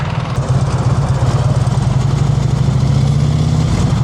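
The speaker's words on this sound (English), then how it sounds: "The whole engine shaking." Motorcycle engine running steadily through braking practice, a loud, continuous low rumble with a pulsing throb that holds throughout, no talk over it.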